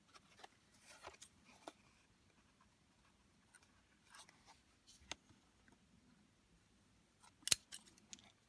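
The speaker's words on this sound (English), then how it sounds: "I need to cut or trim off some of this paper here." Quiet, intermittent snips of scissors cutting paper, a few sharp crisp cuts spaced out with soft rustling between them.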